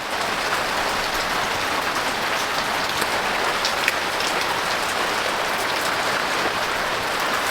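Steady rain pours down in Jamaica, a dense, even hiss of drops drumming on surfaces close by, constant and unbroken with no voices over it.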